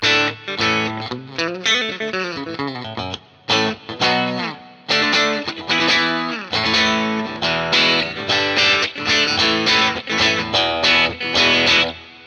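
Distorted electric guitar with both pickups combined plays a busy run of notes and chords, loud and close, with brief gaps between phrases and no voices.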